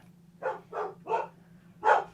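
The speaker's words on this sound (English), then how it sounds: "Our guard dogs are telling us it's time to wrap it up." Guard dogs barking, four evenly spaced woofs of moderate loudness from a short distance over a low steady hum, with no talking.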